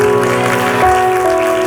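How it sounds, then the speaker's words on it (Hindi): Applause from a church congregation at an Apostolic Invasion 2024 gathering in Nagpur, a short steady patter of clapping mixed with sustained keyboard-like tones, fairly loud and continuous for under two seconds. "I thought you'll clap better for that."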